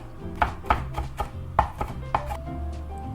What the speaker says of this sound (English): You need about 3/4 cup of chopped dill.